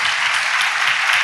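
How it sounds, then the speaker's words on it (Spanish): Congregation clapping together in a church service, a dense, steady wash of applause filling the room for a brief moment without any speech over it. "dele aplausos al Señor"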